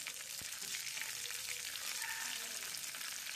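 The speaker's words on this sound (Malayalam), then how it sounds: "കറിവേപ്പിലയും കൂടി ഒന്ന് വെളിച്ചെണ്ണയിൽ നന്നായിട്ട് വറുത്തെടുക്കുക." Curry leaves frying in coconut oil for chundakka theeyal, a continuous close crackling sizzle with a faint stir, no talking.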